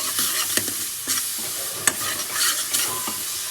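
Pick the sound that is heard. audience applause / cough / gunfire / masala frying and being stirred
masala frying and being stirred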